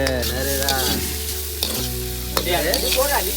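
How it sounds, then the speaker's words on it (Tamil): Spices are tempered in a hot pan while making kothu: oil sizzles and crackles steadily while the mixture is stirred, with a few sharp clinks and a tonal hum underneath. "சமையல்ல இதை தாளிக்கிறேன்னு சொல்றாங்களாம்."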